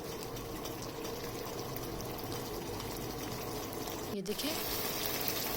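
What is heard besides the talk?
pouring water into cooking mutton pot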